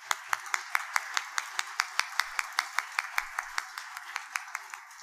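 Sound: audience applause

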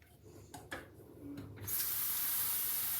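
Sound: cold tap water filling a saucepan

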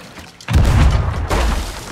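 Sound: ship cannon firing in video game Sea of Thieves

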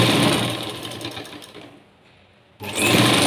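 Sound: sewing machine stitching piping onto a blouse

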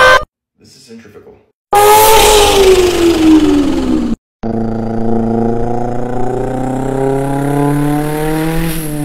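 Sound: mouth imitation of a centrifugal supercharger

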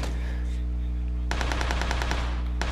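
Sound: gunfire in the video game PUBG

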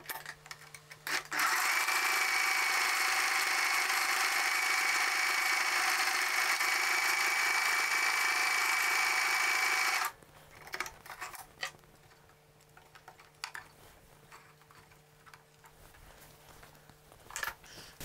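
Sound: sewing machine stitching buttonholes on a polo shirt

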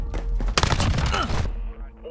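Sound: gunfire in Call of Duty Modern Warfare video game

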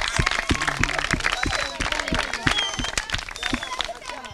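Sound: audience applause

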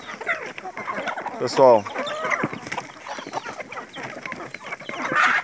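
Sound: chickens clucking while eating fermented wheat bran

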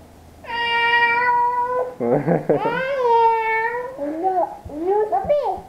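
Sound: cat meowing

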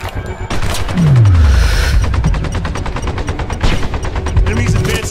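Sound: gunfire in video game Sniper Ghost Warrior 2

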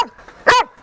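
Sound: dog barking on a beach

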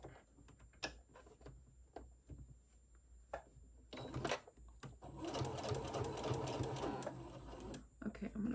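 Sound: sewing machine stitching pleats on a fabric mask

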